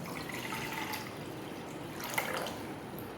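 Water poured into a deep kadai makes a faint, continuous splashing trickle, steady and soft from start to finish with no voices.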